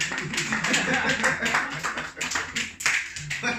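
Applause from an audience at a church gathering, a dense patter of clapping running throughout, with a voice talking over it.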